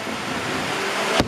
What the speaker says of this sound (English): Update on the rain, it's still fucking coming down hard as ever.